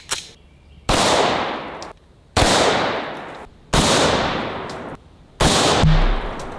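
Four very loud, close .50 BMG rifle shots fired at a steel sledgehammer outdoors, each a sharp blast followed by a long ringing decay, spaced about one and a half seconds apart with no talking.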